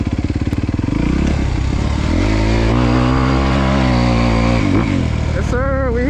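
A 2023 Honda CRF250R dirt bike engine revs loud and close, its pitch climbing and holding in a steady high whine before dropping, while a rider talks over it.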